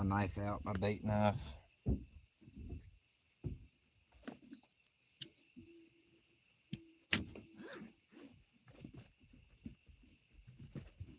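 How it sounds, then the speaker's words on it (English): Crickets chirp at night beside a fishing spot, a steady high shrill drone running throughout, with someone talking briefly at the start and scattered handling noises. "So there's a bunch of crickets chirping off right now"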